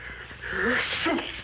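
A single short, close sneeze with a sharp burst of breath, faint background around it.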